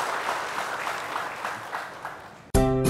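Studio audience at a health talk show in Purwakarta, Indonesia, giving a steady round of applause that runs for about two and a half seconds before a sudden loud burst of music cuts in.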